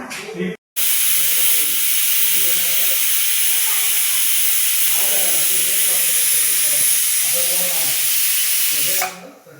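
A pressure cooker hisses loudly and steadily as it releases steam while cooking paneer pulao, a continuous jet running for several seconds while a voice talks underneath.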